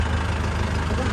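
A Swaraj 735 FE tractor engine idles with a steady low mechanical rumble and faint knocking throughout, close and continuous, with no pauses in the drone.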